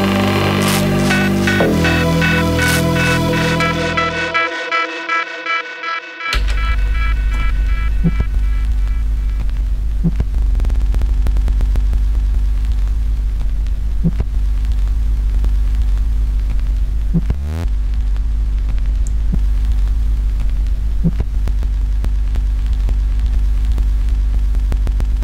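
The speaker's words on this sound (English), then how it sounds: "We're going to explore an evolving vinyl hum, something that I really like using in my productions" An evolving vinyl hum effect patch: a synth tone fades out, then a low, steady mains-style hum takes over with faint crackle and occasional soft clicks and a brief warble, running loud and unbroken for over twenty seconds.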